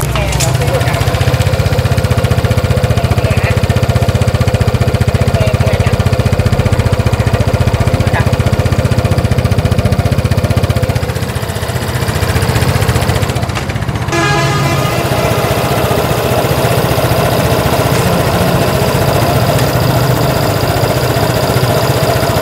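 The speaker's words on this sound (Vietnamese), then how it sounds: "siêu phẩm Vespa 946 chính thức nổ máy" Vespa 946 scooter engine running at a steady idle, a continuous loud buzzing putter heard close up for over twenty seconds, with a brief dip partway through and people talking over it.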